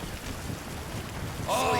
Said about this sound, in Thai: ฝนตกแล้ว